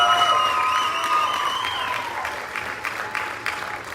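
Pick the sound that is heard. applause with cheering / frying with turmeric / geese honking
applause with cheering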